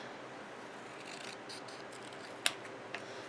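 Scissors cut a green paper label lengthwise for a handmade card, two sharp, close snips, the second softer, over a quiet room hiss.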